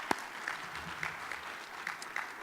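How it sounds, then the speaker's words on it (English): A conference audience at an arts marketing closing keynote claps in a light, scattered round of applause, heard fairly faint and distant, with no talk over it. "Ask you to give yourselves a great round of applause."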